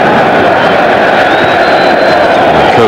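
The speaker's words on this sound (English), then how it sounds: "The crowd keep chanting his name." Dense football stadium crowd at De Kuip in Rotterdam during the 1997 Netherlands–Belgium World Cup qualifier, a continuous loud roar of massed voices with a sustained chant rising through it, carrying steadily for the whole stretch.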